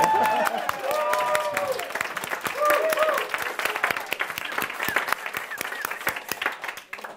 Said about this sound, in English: Let's take a moment and applause.